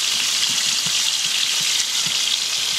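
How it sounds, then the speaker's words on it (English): Bloody steaks fry in a pan at an overnight bushcraft camp, a dense, even sizzle heard up close with faint crackles and spits throughout, and no voices. "Couple of nice bloody steaks"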